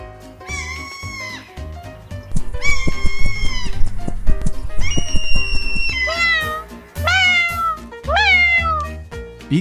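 A kitten meows repeatedly, loud and close, in a series of rising and falling cries over a backdrop of toy-play music.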